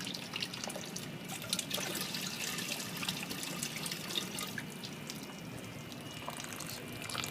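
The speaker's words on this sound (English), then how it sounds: "You just put some water in there and just dump off all that clay." Water swishes and pours off clay in a pan of zircon sand at a sink, a continuous faint splashing and trickling with no talking.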